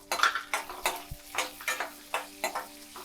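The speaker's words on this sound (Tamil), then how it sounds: "ஒரு ஏழு எட்டு பல் பூண்டு அதையும் லைட்டாக போட்டு வதக்கி எடுத்துக்கலாம்" Shallots and sliced garlic sautéing in a pan for a tamarind curry with broad beans, heard as rhythmic stirring scrapes about every half second over a soft sizzle, close and steady with no talking.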